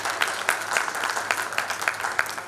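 An audience at a chartered accountants' inaugural session gives a round of applause: steady, moderately loud clapping with distinct rhythmic claps over a couple of seconds.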